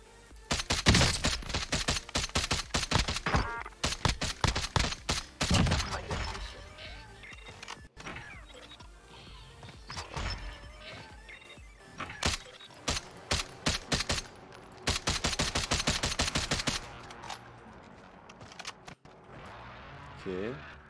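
Rapid enemy gunfire bursts in the video game Warzone crackle in dense volleys, with a quieter stretch midway before heavy fire resumes, all under game sounds and occasional talk.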